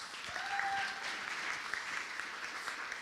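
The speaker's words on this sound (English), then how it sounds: "Give yourselves a round of applause." Meetup attendees applaud themselves in a quiet, distant wash of clapping that holds steady for a few seconds, with a faint whistle early on.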